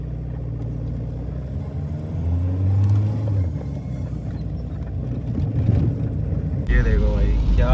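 A Skoda Octavia drives through rainy weather, giving a steady low engine and road rumble with wind and water hiss throughout and a louder swell near the end.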